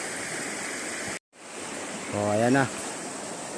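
Murky river water flowing after storms, a constant broadband rush of current heard close and steady, briefly cut out once, with someone speaking over it.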